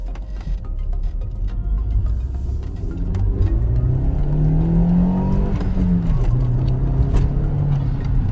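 A car engine with an aftermarket Ram Air intake filter revs up, its pitch rising and falling with a whooshing intake sound, loud and close, with no talking.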